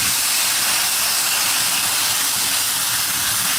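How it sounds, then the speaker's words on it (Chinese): Boiling water poured into a hot pan holding chili paste, spices and noodles, setting off a loud, steady, close steam hiss that fills the whole moment without pause. "加入开水"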